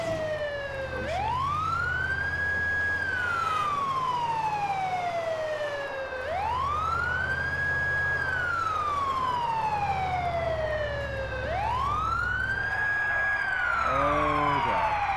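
An ambulance siren in the video game GTA IV wails in long rising and falling sweeps, three full cycles over a steady engine rumble, loud and continuous.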